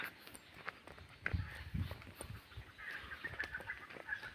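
A red junglefowl calls a few times amid outdoor forest background noise, with low thumping sounds in between; the calls are moderately loud and fairly close.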